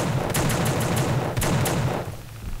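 Dual revolvers firing in The Suffering, a quick series of about eight sharp, loud shots in two rhythmic bursts over a dense game background, no talking.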